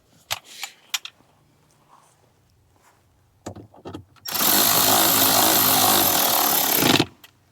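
While a T20 Torx screw is tightened on a Mercedes during service, a few sharp clicks and knocks come first. A loud, steady power-tool whir then runs for about three seconds, close up, and stops abruptly.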